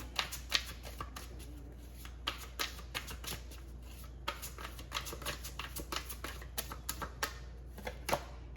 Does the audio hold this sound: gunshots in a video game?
no